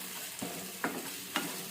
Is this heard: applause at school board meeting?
no